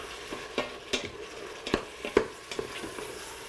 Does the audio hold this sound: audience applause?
no